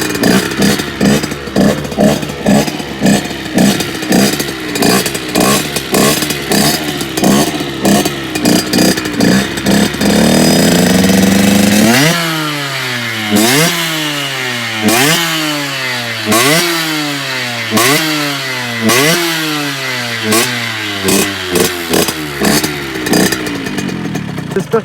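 Close, loud two-stroke engine of a Masai 50cc motorcycle with a Doppler Vortex cylinder. It chatters at a steady high idle for about ten seconds, then settles into a rhythmic series of sharp revs that climb and drop in regular waves.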